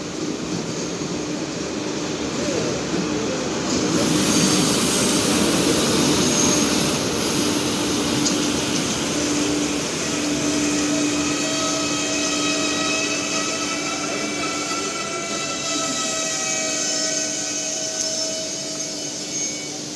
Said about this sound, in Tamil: நம்ம Velankanni express first LHB run வந்துருச்சு